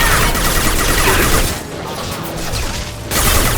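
Combat gunfire in the sci-fi game Mass Effect 2, a loud dense fusillade of overlapping shots and impacts that briefly drops back before swelling again.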